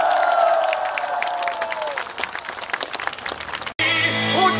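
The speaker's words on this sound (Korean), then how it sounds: "마음을 담은 박수 보내드려야 되지 않겠습니까?" A crowd at a presidential campaign rally in Chungju bursts into loud, sustained applause with cheering, dense clapping continuing throughout before briefly cutting out and resuming.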